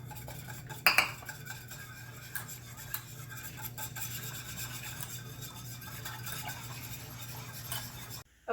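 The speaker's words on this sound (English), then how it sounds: "Then we're going to mix that in with the yeast mixture." Utensil scraping and clinking in a bowl while ingredients for homemade cinnamon roll dough are mixed into a yeast mixture, with a sharp clink near the start and then a steady faint rubbing over a low hum.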